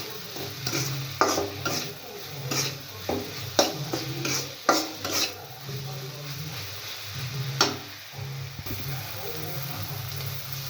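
A masoor dal and tomato mixture being stirred and fried in a pan, with frequent close scraping strokes in an uneven rhythm over continuous sizzling and a few louder knocks.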